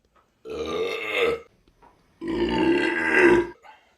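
A man lets out two long, loud, close burps separated by a short pause, with no other sound around them.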